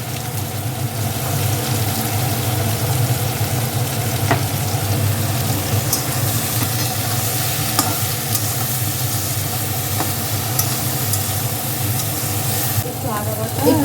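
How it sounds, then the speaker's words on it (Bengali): Eggplant pieces frying in a pan with salt and turmeric make a steady, loud sizzle throughout, with occasional faint clinks of a utensil stirring. "এবার এর মধ্যে বেগুনগুলো দিয়ে দিচ্ছে এর মধ্যে পরিমাণ মতো লবণ"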